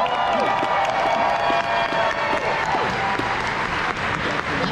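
Dense, loud applause and cheering from a large crowd at the Anthrocon 2024 dance competition, honouring the judges, with sustained clapping and whoops throughout.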